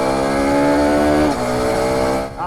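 A Ducati V4 Granturismo 170-horsepower motorcycle engine revs hard and climbs steadily in pitch, loud and close, then drops off sharply near the end.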